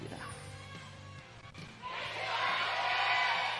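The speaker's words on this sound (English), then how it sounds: "That might be the loudest cheer I've heard in the Nexon Arena." Esports fans in the Nexon Arena at a League of Legends match swell into a loud sustained cheer that rises after a quieter start with game sounds and fills the hall to the end.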